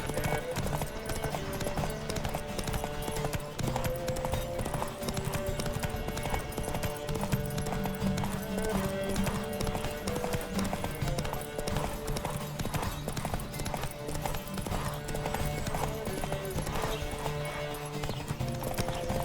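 Rapid rhythmic hoofbeats of galloping horses in a race in the video game The Witcher 3: Wild Hunt drive on under a layer of music, with occasional shouting voices and a whinny.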